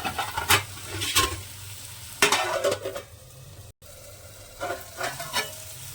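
Tomato masala sizzles in oil under a plate lid while a spoon scrapes and stirs in bursts at close range. A short dropout falls midway through, and no one speaks.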